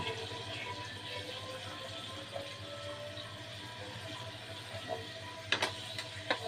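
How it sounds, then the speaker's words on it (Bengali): Chopped garlic frying in hot oil for a kalmi greens curry: a soft continuous hiss and sizzle, with a few faint clinks and scrapes of stirring near the end, and no talking. "প্রথমে আমি তেল গরম করে নিলাম এর মধ্যে দেখো রসুন কুচি দিয়ে দিলাম"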